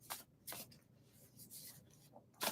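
A new tarot deck is shuffled by hand, close and quiet, in several brief papery bursts separated by short pauses.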